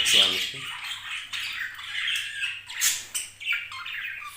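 Budgerigars squawk and chatter loudly and close while fighting, a burst of shrill harsh calls with a faint low hum underneath.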